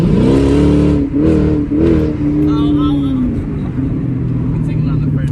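Chrysler 300 with a Hemi engine and a new power steering pump and SRT springs, driving on its first test drive: a steady engine drone with some revving rises under continuous talk inside the car.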